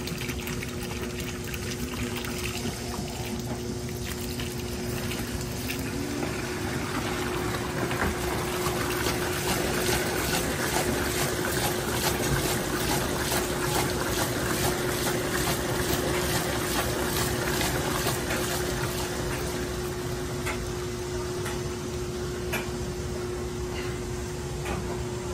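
An LG 18 kg washing machine washing a mattress on its Wave Force cycle, with a continuous churning slosh of water, a steady motor or pump hum and rhythmic swishing throughout, loud and close, with no speech.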